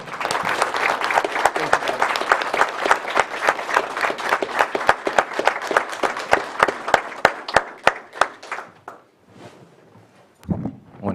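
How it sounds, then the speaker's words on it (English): Applause from a county meeting audience honoring the Lake County Probation Department, a steady burst of many hands clapping for about eight seconds before thinning out and fading to near silence, with a brief sound at the end. "let's give a special round of applause to this department for all the great achievements in this county"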